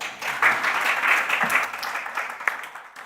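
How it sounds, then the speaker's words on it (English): An audience at a mining investment event in Gauteng bursts into applause, steady massed clapping with a few sharper claps standing out, sustained for several seconds without speech. "A round of applause for her."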